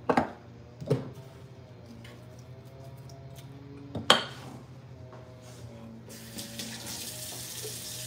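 Water runs steadily from a kitchen tap while corn flour dough for shrimp patties is mixed, a thin, quiet stream punctuated by a few sharp clinks and knocks, then a brighter gush near the end.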